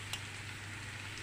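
Curry leaves fry in hot oil with a faint, steady sizzle and crackle under a low hum, with no talk.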